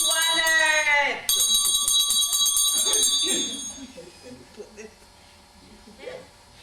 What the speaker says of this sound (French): ma cloche ne sonne pas assez fort